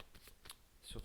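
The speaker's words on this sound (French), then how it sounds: "je vais tirer notre carte pour avoir plus d'infos sur ça" A tarot card drawn from a deck during a reading, giving a few soft, quick papery slides and flicks, faint and close, with a voice speaking faintly alongside.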